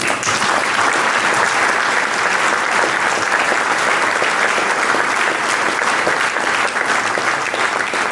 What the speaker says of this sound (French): je leur demande de vous applaudir.